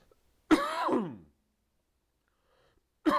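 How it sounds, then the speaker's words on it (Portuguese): A woman's single throat-clearing cough with a sighing exhale, close to the microphone in an otherwise silent room, followed by a short pause and the start of another burst at the end. "Vou dar uma tossidinha aqui."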